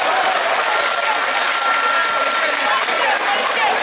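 Loud, dense applause from a crowd at a French strike gathering, sustained and even throughout with no break.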